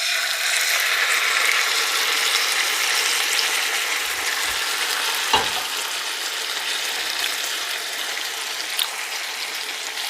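Chilaquiles sauce hits corn tortilla chips in a hot pan, giving a steady, loud, dense sizzle throughout with a few faint clinks of a utensil partway through.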